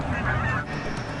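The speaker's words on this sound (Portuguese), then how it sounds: "Um aumento notável de gansos canadenses, aves da região não migratórias." Canada geese honk in a flock, with a cluster of nasal calls at moderate distance over an ambient background.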